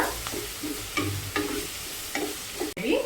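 Onion pieces with salt frying in a pan for a raw banana and drumstick tamarind curry, a steady close sizzle broken by several stirring scrapes, with a brief dropout near the end.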